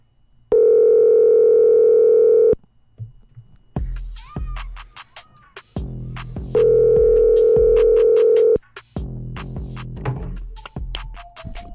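A telephone line rings out in long steady electronic tones, two separated rings loud and alone, with scratchy clicks and handling noise between them before the call goes through to voicemail.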